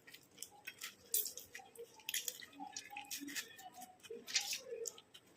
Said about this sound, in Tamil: இந்த தக்காளி நம்ம போட்டு நல்லா பிழிஞ்சு எடுத்துக்கலாம்